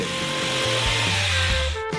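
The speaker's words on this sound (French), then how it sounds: "vous devez couper le contreplaqué pour les parois avec une scie sauteuse électrique" An electric jigsaw buzzes loudly and continuously nearby, its motor pitch wavering as it cuts through plywood.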